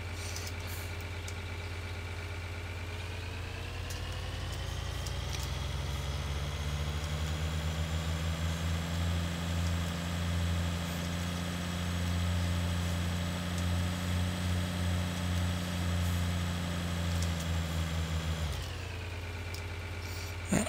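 A tractor engine in the Farming Simulator 2013 video game runs steadily for about eighteen seconds, a low droning hum that swells slightly as it revs and then cuts off abruptly near the end, with no talking over it.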